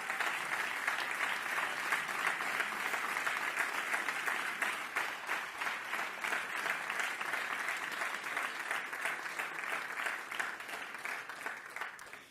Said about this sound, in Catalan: Un fort aplaudiment per a tots aquests grans esportistes